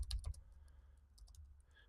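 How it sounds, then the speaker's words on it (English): Computer keyboard typing: a few quick clicky keystrokes close by at the start, then sparse lighter taps over a low background hum. "I'm just going to start typing into the chat"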